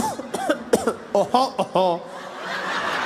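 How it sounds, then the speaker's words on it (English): A few short coughs and throat-clearing sounds mixed with a brief chuckle, close up, fading into a soft background hiss. "that was just a tickle and a cough"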